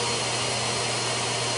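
A Miele HEPA vacuum cleaner runs with a steady, loud broadband whoosh and low motor hum, continuous and close, with no speech.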